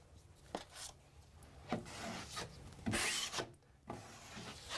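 A drywall knife repeatedly scrapes and shaves joint compound in several short, fairly faint rasping strokes with brief pauses between them.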